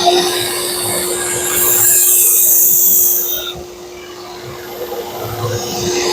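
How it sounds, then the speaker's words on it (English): Belt grinder with a 240 grit belt reprofiling the edge of a Shun Classic chef knife, a loud, close, continuous motor whine and abrasive hiss that shifts in pitch as the blade is pressed on and lifted off. "I'll put the primary edge on with this 240 grit belt."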